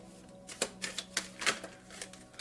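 A deck of cards is shuffled by hand during a card reading, making a quiet run of soft, irregular flicking and riffling bursts with no talking.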